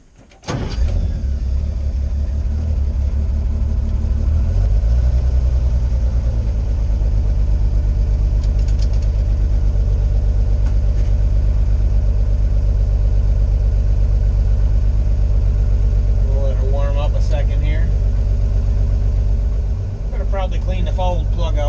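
A 1952 International Harvester L112 pickup engine idles steadily and loud throughout, a continuous low rumble with faint mechanical clatter rising briefly near the end.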